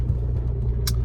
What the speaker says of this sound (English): So, I'm about to drive down the street right now.